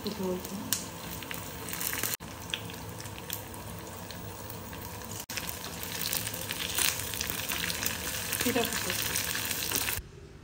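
Red chillies and curry leaves crackle and sizzle steadily in hot oil for a tempering over an ash gourd curry, a close, continuous frying hiss with faint clinks and a voice talking at times.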